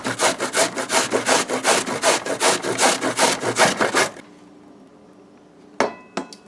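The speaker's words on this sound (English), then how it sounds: "it's time to grate our mango now" Mango is grated against the shredding side of a hand grater in quick, rhythmic rasping strokes for about four seconds, then it stops and a couple of faint clatters follow.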